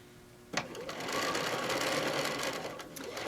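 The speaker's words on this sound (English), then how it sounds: "I'll sew about an inch above the bottom, do another little back tack" A sewing machine stitching a seam on a pincushion starts abruptly and runs steadily at close range, a fast even mechanical whir with a sharp click at the start.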